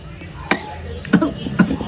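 A few short, sharp coughs sound close by against a quiet room, with faint background chatter.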